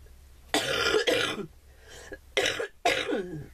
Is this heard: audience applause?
no